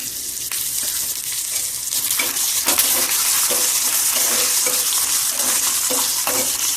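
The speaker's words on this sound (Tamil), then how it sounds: "பச்சை மிளகாய் 2 கிழி வச்சுட்டு கருவேப்பிலை கிழி போட்டுறேன்" Green chillies and curry leaves fry in hot oil with peanuts and asafoetida, a steady broadband sizzle running throughout with scattered sharper crackles and pops over a continuous hiss.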